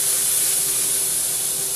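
Bacon and thin steaks sizzle in a pan, a steady, bright, close hiss that holds evenly without pause.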